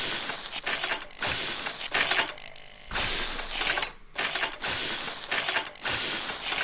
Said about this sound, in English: let's weld these all together